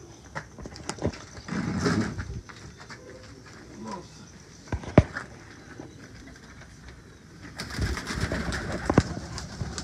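Salara (Taddy) pigeons coo in soft, low bursts between patters of wings and shuffling, close by, with occasional sharp clicks and faint background voices.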